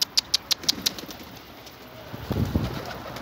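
A quick series of wing flaps from a nearby pigeon, then quieter ambience and a soft low cooing.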